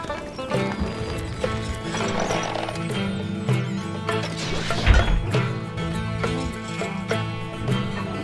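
Cavalry horses gallop in the video game Stronghold Crusader, dense drumming hooves with whinnies and neighs over a sustained musical drone, loud and continuous, with a heavy crash near the middle.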